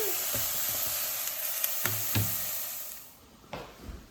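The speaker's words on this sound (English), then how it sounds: "Stirring that. Don't let it fry or burn." Vegetables for minestrone sizzle steadily in a pan while being stirred, with a few sharp scrapes and knocks of the spoon against the pan and a quieter stretch near the end.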